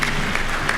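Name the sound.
audience applause at graduation ceremony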